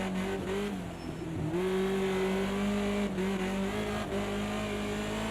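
In Project Cars 2, a BMW 2002 Turbo slides on the throttle at Bathurst, the engine roaring loud and close, its pitch dipping and surging through corners amid faint tire scrub, and nobody speaks.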